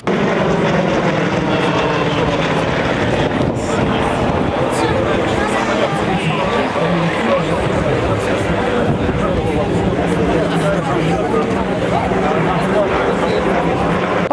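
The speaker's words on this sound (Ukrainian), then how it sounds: "Далі повітряний бій виконують два літаки" Steady loud engine roar of two aircraft performing a dogfight display at an air show, continuous and droning throughout with voices faintly underneath.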